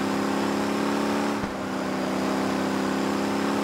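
Car engine in the driving game Motor Town: Behind The Wheel, a steady, loud mid-pitched drone under power with a brief dip partway through, as if shifting, then holding strong.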